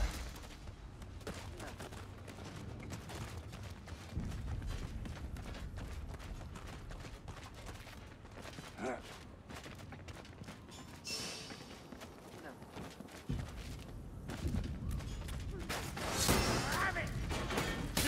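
Rapid rattling gunfire from a Ratling Gunner enemy in the game Vermintide sounds in long bursts amid combat clatter and hoof-like clicks, with character voices calling out over the action.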